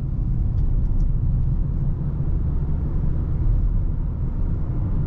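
A Fiat Strada Ranch double-cab with a 1.3 engine and CVT automatic accelerates, giving a steady, loud low engine rumble heard from inside the cabin with no talk.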